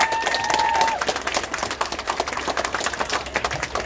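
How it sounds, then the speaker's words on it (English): A crowd at an outdoor climate strike in Whakatane claps, a ragged, uneven applause with a brief whistle-like tone at the start, fading into scattered individual claps. "Another round of applause."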